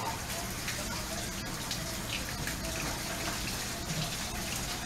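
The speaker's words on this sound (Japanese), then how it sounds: "シャワー出る。" Shower water sprays steadily in the sea lion area of an aquarium, a continuous hissing wash at a moderate distance, with faint indistinct voices of onlookers underneath.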